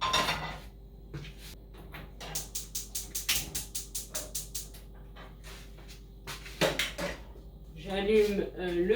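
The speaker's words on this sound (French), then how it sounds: "Donc je prends une poêle. Donc c'est une poêle anti-adhésive." A non-stick frying pan is pulled out in a home kitchen, with a quick run of evenly spaced knocks and clatters from cupboards and cookware, then a louder clank and a brief spoken voice near the end.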